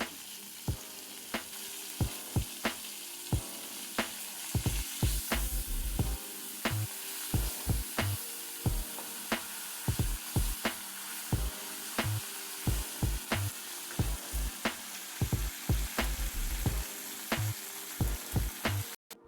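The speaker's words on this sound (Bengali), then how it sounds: "প্রথমে আমরা মাছগুলিকে ভেজে নেব।" Hilsa fish fry in hot oil with a steady bright sizzle, punctuated by repeated sharp taps and scrapes of a utensil against the pan at a fairly regular pace throughout, with no voices.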